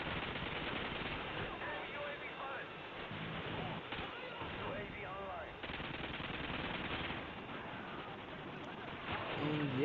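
Rapid automatic gunfire from a sentry gun in Call of Duty: Modern Warfare 2 rattles steadily and loudly throughout, with dense overlapping bursts and scattered game effects.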